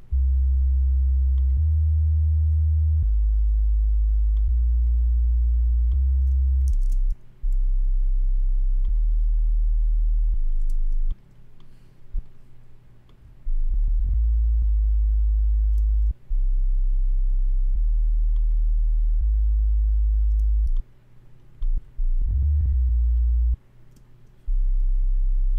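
A layered synthesizer patch built from an initialized preset plays a deep, steady bass-heavy sequence of sustained notes changing pitch every second or so, with faint clicks, and no voices.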